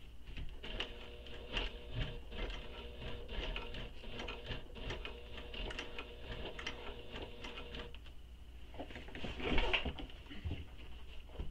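A sewing machine runs a top stitch along the edge of a tote bag, giving a fast, even mechanical whir with rhythmic ticking that holds steady for about eight seconds before a brief rustle and clatter near the end.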